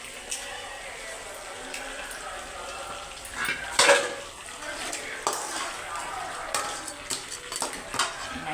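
Crab pieces stirred into oily masala in a pan for crab gravy, soft frying hiss with spoon scrapes and clatter, one louder burst of stirring midway, fairly quiet and close.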